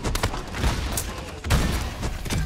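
Bursts of rapid gunfire crackle in the online game Paladins, with sharp cracks near the start and again around the midpoint, fairly loud.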